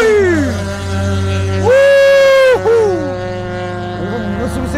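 Race car engine roaring through rising and falling revs with a loud sustained blast in the middle, harmonic whine sweeping up and down, close and dominant with no talk over it.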